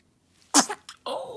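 A newborn baby gives one sharp, close sneeze with a short catch of breath after it, then a brief soft vocal sound, heard alone in a quiet room.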